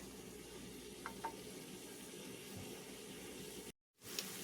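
Onions and a single large bay leaf sauté in an Instant Pot with a faint, steady sizzle and a couple of soft stirring clicks. The sound cuts out briefly near the end.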